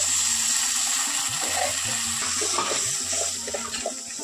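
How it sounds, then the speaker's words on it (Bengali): Water poured into a pan of turmeric and chili powder for a prawn and jackfruit curry, a steady close gushing splash throughout. "এখন আমি এখানে কিছুটা জল অ্যাড করে দিচ্ছি।"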